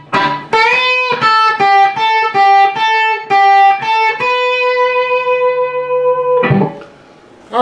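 Electric guitar playing a solo lick, a quick run of distorted picked notes and bends ending in a long sustained bent note, loud and close, with no talking.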